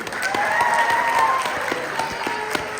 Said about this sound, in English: Kaylee, let's do a round of applause for Kaylee.